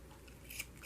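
Scissors snip through thread ties on paper journal tags, giving a couple of quick, crisp cuts close by in a quiet room.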